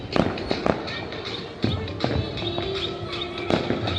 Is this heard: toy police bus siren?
no